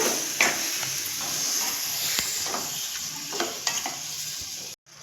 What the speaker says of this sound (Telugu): తర్వాత దీన్ని కొంచెము ఆయిల్లో బాగా నీట్గా కలిపెట్టేసేయాలండి.